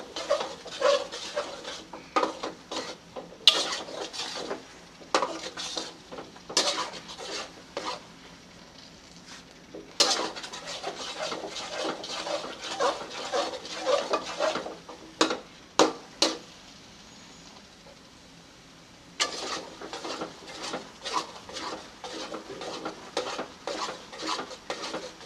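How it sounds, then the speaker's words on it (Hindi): A spoon stirs semolina milk halwa in a pan, scraping and clinking against the metal in repeated irregular strokes over a soft sizzle, with a brief quieter pause before the stirring resumes. "चम्मच को हिलाते रहेंगे जब तक हलवा ऑयल नहीं छोड़ देता।"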